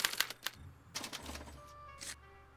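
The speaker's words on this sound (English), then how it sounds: "they're relayed to this special typewriter, which prints out a punch card that represents the subject's mind map" A special typewriter in the Back to the Future video game clatters as it prints out a punch card: several sharp, close mechanical strikes and clicks with low whirring motor hum between them, no speech.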